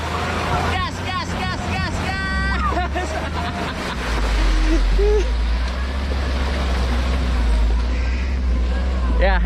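A Toyota FJ40 and Land Cruiser LC70 on 35-inch tyres, one fitted with a Come Up DV9 winch, drone steadily off-road at Cikole, Bandung, their low engine rumble growing louder midway while several people chatter and call out over it.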